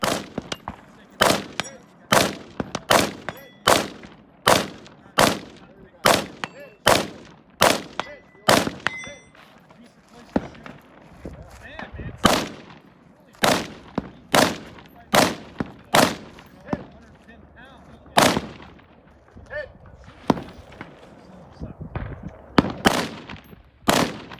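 Rifle shots ring out in a rapid series at an outdoor shooting match, about two dozen sharp, loud cracks at a brisk, slightly uneven pace, with faint metallic rings from steel targets between them.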